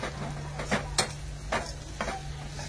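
Food sautéing in a pan with a constant sizzle, broken by several sharp spatula scrapes and knocks at uneven intervals, close and clear with no talking.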